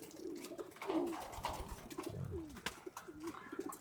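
Pigeons kept as flyers coo in soft, repeated low phrases, several calls across a few seconds at close range with no talking.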